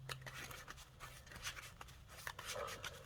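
A deck of Zoodiac trading cards being shuffled, giving a continuous papery rustle and flicking of cards, close and fairly quiet, with a low hum at the start and no talking.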